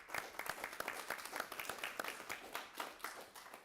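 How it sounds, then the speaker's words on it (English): A round of applause at a county quorum court meeting: many hands clapping in quick, uneven rhythm, sustained and fairly close, heard on its own without voices. "Let's give them a round of applause."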